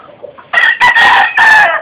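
A rooster crows loudly three times in quick succession, with soft clucking from chickens beforehand.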